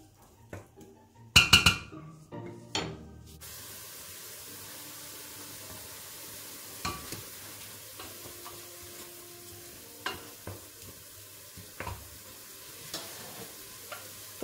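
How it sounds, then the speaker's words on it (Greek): Beef sautéing in olive oil for a Greek beef and orzo casserole: a few loud clattering stirs and utensil clinks early on, then a quiet soft sizzle with scattered light scrapes and taps. "Και τσιγαρίζουμε λίγο."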